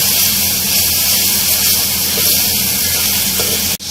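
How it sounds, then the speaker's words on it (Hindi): Beef frying in a pot with garlic-ginger paste for a beef yakhni pulao, a loud steady broadband sizzle and hiss that runs continuously, ending in a brief sharp clatter, with no talking. "लहसुन अदरक का पेस्ट शामिल करके भी हम इसको अच्छे से भूनेंगे 2 से 3 मिनट तक"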